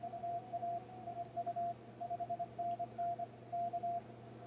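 Morse code CW signal received on an amateur radio at about 22 words per minute, a clean steady sidetone keyed in rapid dots and dashes over a low background hum, alone without speech.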